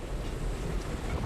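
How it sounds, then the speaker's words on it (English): Hurricane Wilma's wind roars steadily on the Key Largo waterfront at landfall, a dense, continuous rush of broadband gusting and buffeting with a faint whistling edge and no pauses. "it doesn't take much to hear the whistling of the wind"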